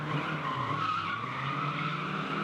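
Drift cars skidding through a tandem drift run at a competition, the tire squeal a continuous, loud, wavering screech with engine roar beneath, heard from a distance.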